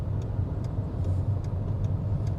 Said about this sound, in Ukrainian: на другій передачці ми набираємо швидкість наближну там 30-40-50